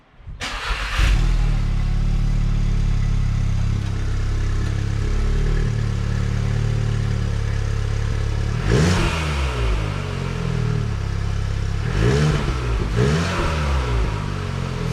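A Volkswagen MK7 Golf R engine with a newly installed downpipe starts and idles with a loud, deep rumble, then revs sharply several times, each rev rising and falling quickly.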